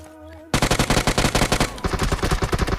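Rapid automatic gunfire in a shooting video game, a loud, close, sustained burst of evenly spaced shots that begins abruptly after a brief quiet moment and continues without pause.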